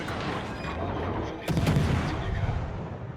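Naval guns of the destroyer Tashkent fire in World of Warships, a heavy boom near the middle over a constant low rumble of engine and sea, with the sound staying dense and loud afterward.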